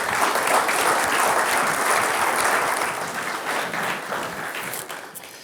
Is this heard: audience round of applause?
yes